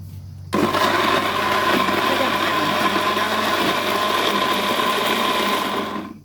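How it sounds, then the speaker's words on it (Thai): A kitchen blender grinds Thai curry paste of bamboo shoots, kaffir lime leaves and peppercorns, starting abruptly with a loud, continuous whirring roar that stays steady before tapering at the end. "จะปั่นอย่างนี้ไปจนละเอียดนะ"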